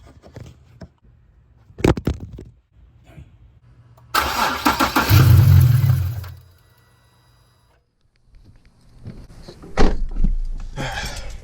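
A Nissan 300ZX Turbo Z with a new 700 hp fuel system cranks and starts: a short clack, then a loud two-second burst of cranking and catching, silence, and a later revving flare-up.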